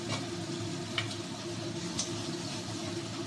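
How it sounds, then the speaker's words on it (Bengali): Ginger and tomato paste fry in a pan with a steady low sizzle, a few faint spoon scrapes and ticks over it, close and fairly quiet throughout. "এবার আদাটাকে আমি একটু ভেজে নেব"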